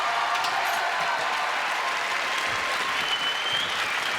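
Studio audience on a French television talk show applauding, a dense, even wash of clapping that holds steady throughout, with no voices over it.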